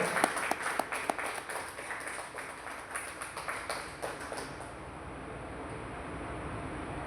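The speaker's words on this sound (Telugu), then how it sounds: "క్లాప్స్ గట్టిగా కొట్టాలి" An audience at an Ayurvedic medicine awareness seminar in Palvancha applauds with a dense burst of many hands clapping. The clapping thins out and stops partway through, leaving quiet room noise.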